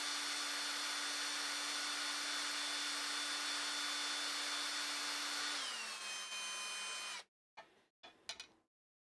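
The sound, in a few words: drill running through holes in LH Stinger kit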